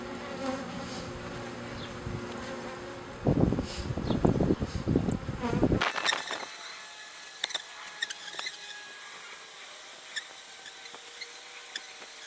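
Honey bees buzzing around an open beehive during a hive split, a dense hum that swells and flutters close by, then thins out into scattered nearer buzzes and light handling clatter.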